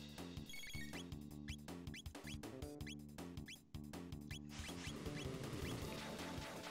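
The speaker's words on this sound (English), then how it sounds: "why do I have a phone call?" A phone ringtone repeats in a melodic electronic pattern as an incoming call arrives, loud and clear with no talking over it.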